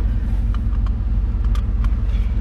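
Truck engine exhaust through a Super 44 muffler, a steady deep rumbling idle with even low pulses throughout, heard from nearby at moderate loudness.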